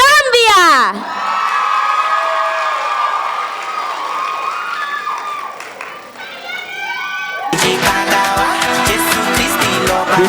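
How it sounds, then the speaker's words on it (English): Teen pageant audience cheering and applauding for a contestant, loud crowd whoops and shouts with clapping, while a voice speaks over part of it and music kicks in strongly toward the end. "Keep your applause going, ladies and gentlemen"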